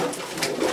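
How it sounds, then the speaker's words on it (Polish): Pigeons in a loft give soft, close murmuring coos over a short stretch, the low, rolling calls continuous and with no talking. "Tu są gołębie troszeczkę podziobane"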